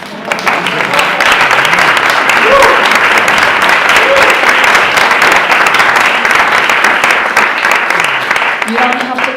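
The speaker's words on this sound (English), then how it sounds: "You don't have to clap after every poem" An audience at a poetry reading breaks into loud, sustained applause, dense clapping filling the room steadily for several seconds with a few voices beneath.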